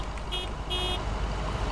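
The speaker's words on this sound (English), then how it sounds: "surely you can expect a little toot back if you toot at someone on the way past" Two short vehicle horn toots sound in quick succession in a driving video game, steady and fairly clear over a continuous low engine and road drone, with no talk.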